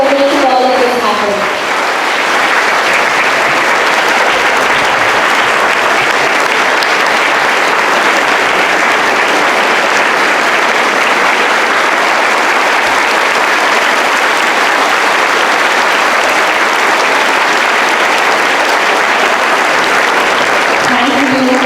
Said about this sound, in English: Can we have a round of applause for our champion as well as the sports authority of India for making all of this happen?